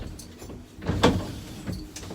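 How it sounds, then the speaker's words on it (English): Upper vent on the cabin of a Beneteau Antares boat being pushed open, a short sliding clunk with a couple of lighter clicks and scrapes around it, close and fairly quiet. "vent opens to give you more fresh air"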